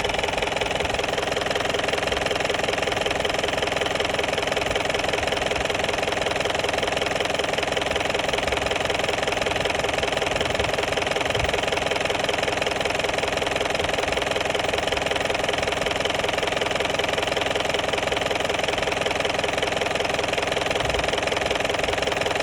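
A 2.2 litre camper vehicle engine idles close by, a steady, loud, even drone with a faint rhythmic knock running underneath and no talking.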